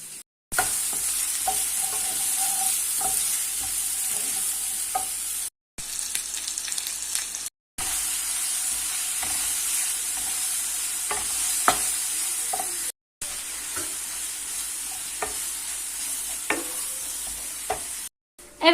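Steady, loud sizzling of small-diced eggplant frying in oil in a pan, with occasional stirring scrapes and pops, broken by a few brief silent gaps.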